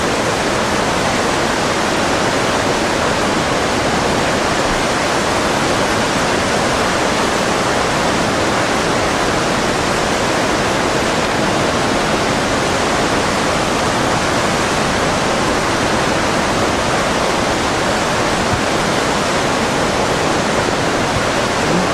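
Floodwater from a major flood in China rushes past as a loud, unbroken roar of churning water, steady for the whole stretch with no pauses and no voices.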